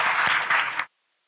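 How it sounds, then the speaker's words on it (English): Lecture hall audience applausing for an engineering professor, a short loud burst of many hands clapping that cuts off abruptly after under a second. "that's applause for not getting hit by a bus"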